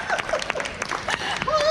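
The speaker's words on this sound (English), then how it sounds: "Can I have a huge round of applause, please, for Cat?" An audience at a motorhome and caravan show gives a short burst of clapping for a guest on stage, close and lively, mixed with a voice speaking.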